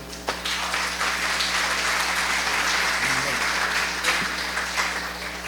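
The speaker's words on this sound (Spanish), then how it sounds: "le damos un aplauso al Padre Chuo que nos ha convocado" An audience at a pastoral assembly applauds a priest, steady mid-level clapping throughout with a low hum in the background and a few voices briefly heard.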